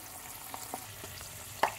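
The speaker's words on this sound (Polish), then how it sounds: "Tu się mięsko gotuje." Minced meat frying in a pan, a low steady sizzle with a few soft stirring clicks and one sharper scrape near the end, close and quiet with no talking.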